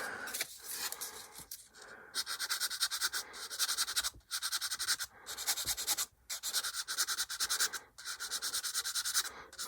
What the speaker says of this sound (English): Sanding stick.